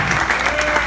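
Guests at a wedding reception applaud the couple in a short, continuous burst of dense crowd clapping at a steady level.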